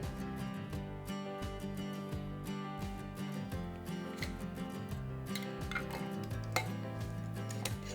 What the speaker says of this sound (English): Put your lids on just fingertip tight.